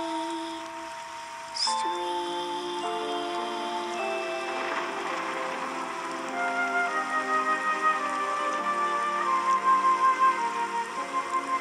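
Steady rain patters on the street in a cartoon, a soft continuous hiss running beneath gentle background music for the whole stretch.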